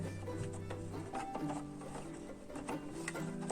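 The hand crank of a mechanical knitting loom (tricotin mécanique) turns with quiet, continuous ratcheting clicks and soft whirring gear tones, faint and close up.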